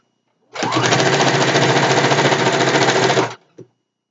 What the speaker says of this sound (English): And tuck, straighten, and sew.